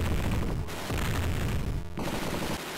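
Dense, continuous gunfire and blasts from the Sega Mega Drive game Robocop vs Terminator, a loud unbroken barrage of rapid shots with only a brief pause near the end.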